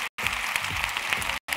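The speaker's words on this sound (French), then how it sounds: "Tout le monde va vous applaudir." An audience at an awards ceremony applauds the winners, steady dense clapping at moderate loudness, cut by two brief silent gaps.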